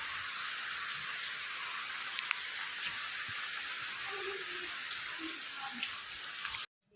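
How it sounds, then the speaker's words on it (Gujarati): Heavy rain falls outside in a steady, dense patter, a constant wash of drops heard from indoors with faint occasional sounds beneath, ending abruptly. "વરસાદ ચાલુ છે"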